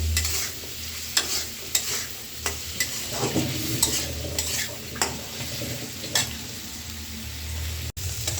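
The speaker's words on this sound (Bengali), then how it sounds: "তো আমি অল্প একটু হলুদ আর লবণ দিয়ে দিলাম আলুটা ভাজি করার জন্য।" Potatoes and onions seasoned with turmeric and salt fry in a pan, giving a steady sizzle broken by repeated sharp scrapes and clinks of stirring, close and moderately loud with no talk.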